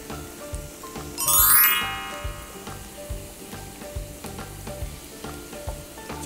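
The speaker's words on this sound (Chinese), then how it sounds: "油温差不多了，我们先用准备好的蒜头来爆香。" Garlic sizzles loudly in hot oil in a wok, with a steady crackle, rhythmic spatula scrapes and a brief bright metallic ring near the start, close up and without speech.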